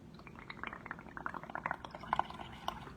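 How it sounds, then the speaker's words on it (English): Air is blown through a straw into a cup of liquid, making a faint, continuous bubbling and gurgling with small pops that swell and fade over a few seconds. "I am going to use the straw and I'm going to blow into the cup."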